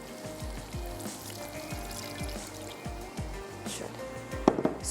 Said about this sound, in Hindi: तो अब इसमें शामिल कर देते हैं पानी।